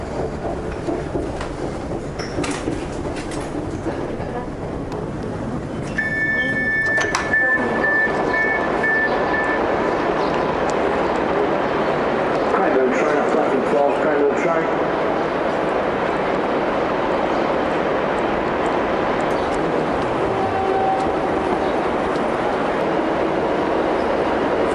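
A train rumbles and rattles steadily as it slows pulling into Southern Cross station in Melbourne, with brief squealing brake tones and a constant rolling hum.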